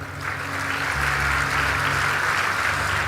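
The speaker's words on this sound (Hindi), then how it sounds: "ताली बजा रहे हो तुम" An audience claps at a Hindu religious katha discourse, giving about three seconds of dense, steady applause that stays loud and even throughout, with no voices over it.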